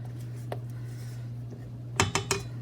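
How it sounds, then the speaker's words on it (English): A spatula scrapes around the sides and bottom of a mixing bowl of cinnamon roll dough: a few brief clattering scrapes, bunched near the end, over the steady low hum of a stand mixer running on low. "we're going to scrape the sides of the bowl and across the bottom"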